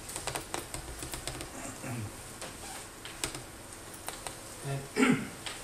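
Computer keyboard keys tapped during a live demo of a prototype XML markup editor, a quiet run of irregular clicks over room hiss, ending in a louder cluster of taps.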